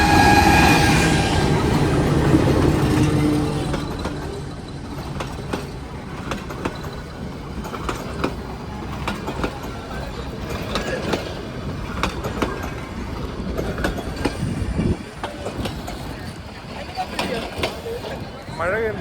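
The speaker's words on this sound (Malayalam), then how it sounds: "വേറൊരു ട്രെയിൻ അവിടെ നിന്ന് ഇങ്ങോട്ടും ഉണ്ട്." A train running on the railway track near Ooty, a steady rumble with rhythmic clicks and clacks throughout, while people talk close by, loudest at the start.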